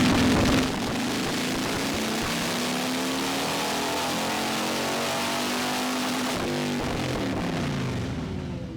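A motorcycle engine with its air filter removed revs hard on a dyno, a loud sustained rising drone that climbs steadily in pitch for several seconds, then drops off near the end.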